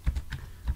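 Computer keyboard keys tapped to type a short name, a handful of close, soft clicks in quick succession with no voice.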